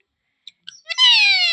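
A pet parrot gives a few short clicks, then a loud, close, sustained harsh call that holds for about half a second with no voices over it.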